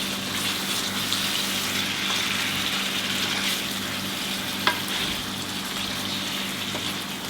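Fresh tomatoes sizzle and fry in a chicken-on-the-bone curry, giving a steady, even crackle that carries on throughout with one faint clink partway through.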